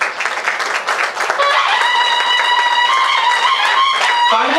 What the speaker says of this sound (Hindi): तालियां कम पड़ने मत दीजिएगा प्लीज